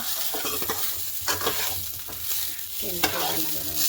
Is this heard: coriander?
yes